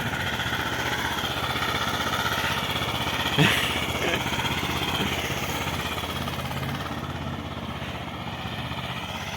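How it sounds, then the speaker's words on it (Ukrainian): A mini tractor drives over a snowy winter yard, its small engine chugging steadily and continuously nearby, with a brief knock partway through and the motor drone slowly easing off. "Це перший виїзд дружини за цим міні-тракторі."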